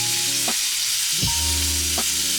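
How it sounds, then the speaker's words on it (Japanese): A steak haché has its sides seared in a hot pan, making a loud, continuous sizzle with a few brief knocks as the meat is shifted, over a steady background hum. "両面焼き上がりましたら側面焼いていきます"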